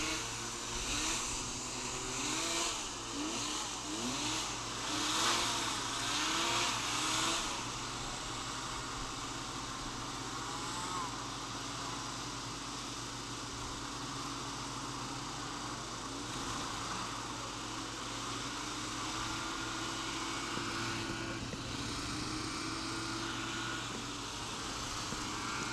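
Racing hovercraft idling on the starting grid at an outdoor race, a steady droning mix of engine and fan noise with distant whirring, continuous and fairly faint.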